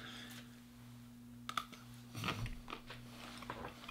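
Chewing on a sauced beef jerky stick, soft wet bites and crunchy chomps close to the mic, irregular and quiet over a low steady hum.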